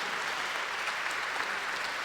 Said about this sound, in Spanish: ¿Por qué no le damos un aplauso al Señor por la vida de todos ellos?